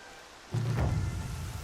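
Heavy rain and thunder in the video game Horizon Zero Dawn: a soft rain hiss, then a deep thunder rumble rolls in suddenly and sustains loudly under the downpour.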